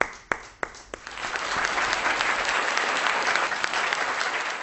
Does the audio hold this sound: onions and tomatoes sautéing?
no